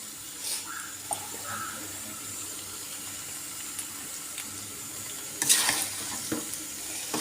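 Handmade noodles with melting cheese being stirred in a pan, a low soft sizzle with sporadic scrapes and clinks of the utensil, growing briefly busier and louder near the end.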